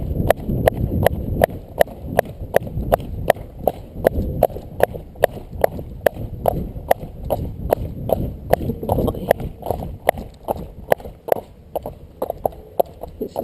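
Steady trotting hoofbeats of a horse circling in a quick, even rhythm, with occasional breathing and faint movement noise, fairly close.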